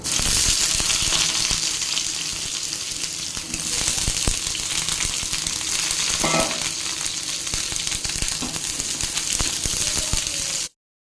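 Diced brinjal sizzling and frying in hot mustard oil, a steady loud crackle that fills the whole stretch with faint stirring scrapes, then cuts off abruptly near the end.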